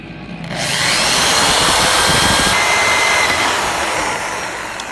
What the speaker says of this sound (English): we're gonna make the pilot hole for the big drill